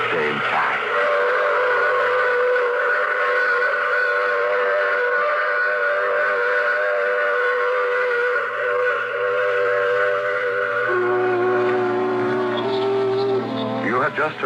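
A train whistle wails in long sustained chords as the train runs past, loud and close, the pitch shifting near the end, played as a radio drama sound effect over a low rumble.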